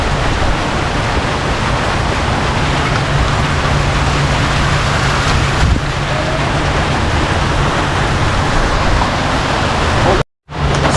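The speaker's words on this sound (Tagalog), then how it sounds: "Grabe yung ulan." Heavy rain pours down steadily outside, a dense broadband hiss that holds at a constant level for the whole stretch before cutting out briefly near the end.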